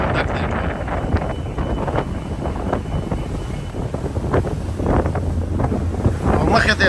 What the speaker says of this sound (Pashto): او مخې ته یې دا باد ډېر زیات تیز دی